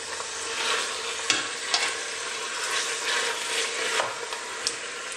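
Chicken pieces fry in a pan with a continuous, fairly soft sizzle, broken by occasional sharp pops and crackles, heard close with no talking.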